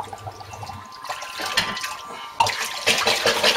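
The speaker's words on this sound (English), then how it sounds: "So the bottles straight into the bucket of water" Home-brewing bottles are plunged into a bucket of water with a no-rinse sterilizer and fill up, giving gurgling, sloshing, splashing water noises that swell in short bursts, close and fairly loud.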